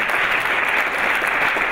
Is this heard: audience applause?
yes